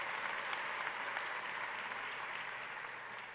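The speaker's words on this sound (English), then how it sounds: "Let's also give them a round of applause." Graduates and guests at a university winter commencement ceremony applaud in a large hall, a steady, even wash of clapping heard from a distance throughout.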